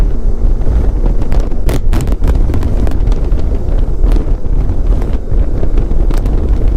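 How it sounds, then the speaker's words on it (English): Steady, loud wind buffeting a helmet microphone while riding a 1994 Honda ST1100 motorcycle on back roads, with rumbling low-end gusts and sharp crackling bursts throughout; no voices. "it was a little windy out here"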